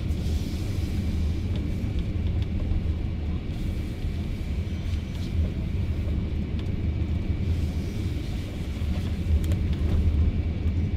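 Low, steady road rumble from an FF 91 electric car on a slow lap around an autocross course, a continuous broadband drone with no engine note and no talk.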